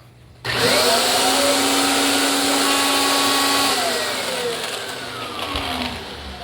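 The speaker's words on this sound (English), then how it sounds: "look at how fast this handheld spins" Kirby Sentria vacuum running with its handheld attachment spinning: a loud motor whine that starts abruptly and holds a high steady pitch, sliding slightly as the speed shifts.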